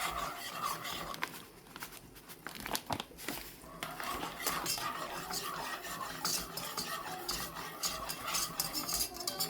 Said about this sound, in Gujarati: એને આપણે સખત હલાવવાનું છે